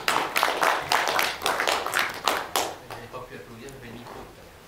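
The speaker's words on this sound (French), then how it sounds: "il y a applaudissements sur tous les bancs" Applause from the audience at an association's general meeting, with dense clapping for a few seconds that thins out and fades. A voice speaks underneath as it dies away.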